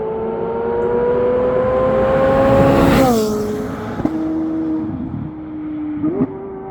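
A Chevrolet C8 Corvette Z06 engine screams as it accelerates, its pitch climbing steadily to a peak, dropping at a shift, then holding a high-revving wail with sharp blips, loud and close with no talk.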